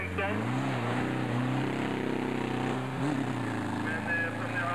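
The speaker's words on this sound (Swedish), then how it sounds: "det låter inte som de varvar någon våldsamt de här folkvagnarna, men fort går de" Volkswagen rally cars climb a hill-climb course, engine drone rising and shifting under a commentator's continuous talk, with wind noise throughout.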